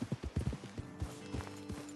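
Horse hooves clip-clopping on a trail in Red Dead Redemption 2, a brisk uneven run of hoofbeats slowing toward a stop, fairly quiet under a faint steady tone.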